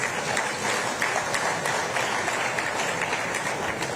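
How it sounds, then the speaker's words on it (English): An audience at a formal gathering in Abuja breaks into a steady round of applause, dense, continuous clapping that fills the room from start to finish with no talk over it. "Let's give him another Abuja round of applause."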